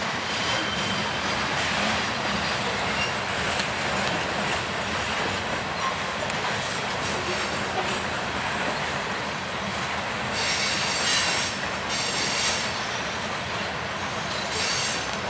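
Union Pacific and BNSF freight trains passing just south of Tower 55, a loud continuous rumble of rolling railcars with high shrill wheel squeal and clattering throughout, close and steady with no talking.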